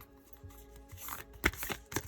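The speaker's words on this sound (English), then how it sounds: "shuffle the deck and then cut the deck" A deck of oracle cards being shuffled, with rapid papery riffles and soft slaps in a quiet room, building to a few sharper bursts near the end.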